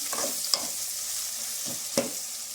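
Onions sauté in a pan for fish curry, a soft continuous sizzle with a few brief stirring clinks, close and fairly quiet, no voices.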